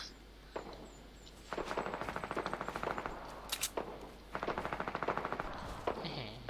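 Rapid bursts of automatic gunfire in Fortnite, two long volleys separated by scattered single shots, loud and close with no talking.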